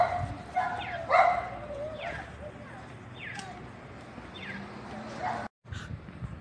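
Several small dogs bark and yip in short overlapping bursts at moderate distance, heard outdoors near condos and traffic, with someone talking over them.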